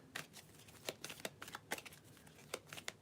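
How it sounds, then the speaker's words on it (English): A tarot deck is shuffled by hand, producing quiet, close riffling bursts and soft card slaps in an irregular rhythm, faint and alone. "I was shuffling. My entire deck was upside down."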